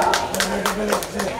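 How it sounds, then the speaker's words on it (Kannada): Hand claps ring out at a regular pace at an anganwadi children's event, four or five sharp strikes in quick succession over a speaking voice. "ಜೋರಾದ ಕೈ ಚಪ್ಪಾಳೆ."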